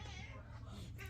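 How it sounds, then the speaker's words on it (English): A pet cat cries and meows while carrying its toy around indoors, a faint short whine heard once or twice under a quiet background. "Oh, here comes my cat. You can hear him crying."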